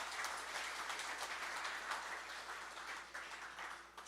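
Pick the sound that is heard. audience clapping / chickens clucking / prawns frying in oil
audience clapping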